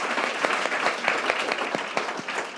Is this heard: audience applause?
yes